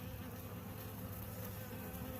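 Honey bees swarm over a hive frame, giving a soft, steady, unbroken buzz that hums close by without any talk.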